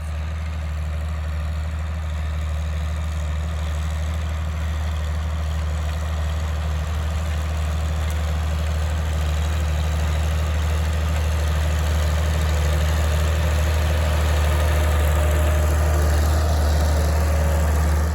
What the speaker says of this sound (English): He is disking that ground in preparation for planting our garden.